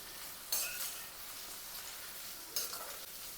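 Onion drops into 4–5 tablespoons of hot oil for Kolhapuri chicken, a soft continuous sizzle with two brief louder bursts of spattering and light utensil clinks.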